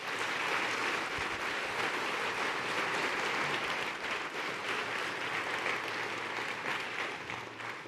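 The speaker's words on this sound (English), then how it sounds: "Give admissions and ourselves a round of applause for that." Sustained, dense applause from a faculty and staff audience at a university convocation fills the room, steady and even for about eight seconds before easing slightly at the end.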